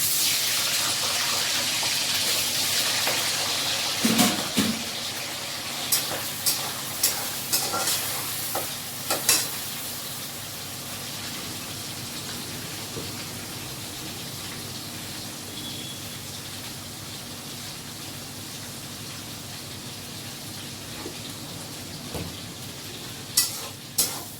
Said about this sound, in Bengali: পুঁই শাকটা সিদ্ধ করে নিয়েছি আগে এবার মাছটা দিয়ে দেবো